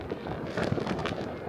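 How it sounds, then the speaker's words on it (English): Fireworks burst over a Lunar New Year celebration in Hoang Hoa, Thanh Hoa, Vietnam, a rapid cluster of crackling pops and bangs at moderate distance, steady throughout with no voices. "Right here, you can see many magnificent fireworks."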